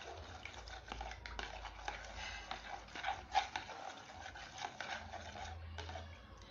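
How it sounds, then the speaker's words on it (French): An oil blend is stirred in a container, giving faint, irregular clinks, scrapes and liquid swishes at close range. "Et je vais maintenant bien remuer."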